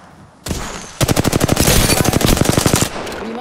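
Enemy automatic fire in an Apex Legends-style shooter: a short burst, then a fast, loud, evenly spaced stream of machine-gun rounds rattling for nearly two seconds before cutting off.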